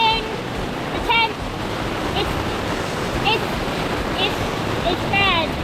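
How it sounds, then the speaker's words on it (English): Heavy rain pours in a dense, steady roar onto a tent pitched on a boat on a river at night, with brief higher squeaks and rustles poking through. "It's pouring rain."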